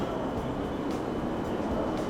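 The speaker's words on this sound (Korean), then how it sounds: "몇 년 만에 일본 이 피크 타임에 지하철 타요." A Japanese subway train at peak time in a big city such as Tokyo gives a continuous close rumble with a steady hum and faint rattling, no voices.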